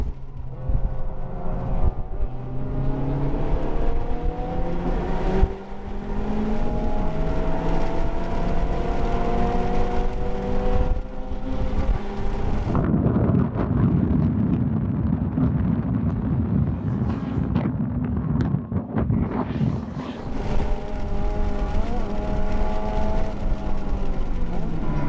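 A Honda Civic Type R FK8 drives hard around a race track at Shenandoah, its engine note rising through the gears and then dropping, with heavy wind rush over the microphone throughout.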